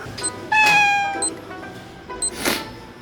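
During a whisper-challenge party game, a person imitates a cat's meow, giving a clear, close, drawn-out mew followed by a shorter one, with soft background noise between.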